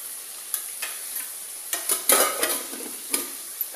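Maggi noodles with onion, tomato and potato being stirred in a pan, giving a soft steady sizzle broken by several scraping strokes of a spoon, louder in the middle, with no talking.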